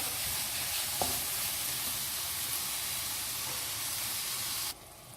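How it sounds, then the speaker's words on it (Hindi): Masala for baingan bharta fries in a pan over medium flame as tomatoes are mashed in, giving a steady, loud, dense sizzle with faint stirring taps that cuts off near the end, no voices. "साथ साथ इस तरह टमाटरों को मैश करते जाएंगे, मसाला भूनेंगे अच्छा सा।"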